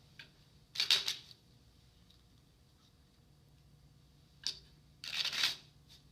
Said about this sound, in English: shuffling the deck.